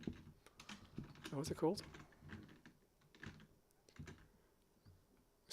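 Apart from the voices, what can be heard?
typing on a computer keyboard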